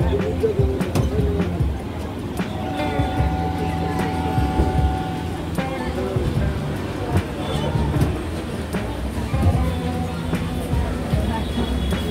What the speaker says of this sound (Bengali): একদম সঠিক সময়ে কোন্নগর স্টেশন থেকে আমাদের ট্রেন ছেড়ে দিয়েছে